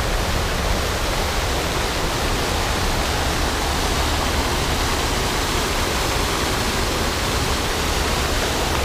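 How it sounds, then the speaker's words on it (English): Loud, steady roar of rushing water at a war memorial in Washington, a dense broadband wash that never lets up, close and powerful with no voices. "I don't know if you can hear how actually loud that is and how powerful the water is"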